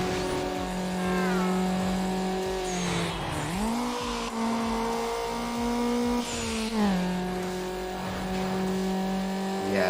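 Mazda Miata with an aftermarket turbo, driven in Need For Speed Underground: the engine holds a steady loud drone, drops and climbs again through gear changes, with whooshes at each shift and a faint voice underneath.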